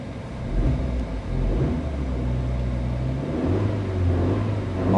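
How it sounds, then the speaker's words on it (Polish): A Suzuki Swift 1.2 Dualjet Hybrid engine hums and rises in pitch as it revs, with a low steady rumble throughout and a shift in tone partway through. "Zobaczcie, jak dodaje gazu."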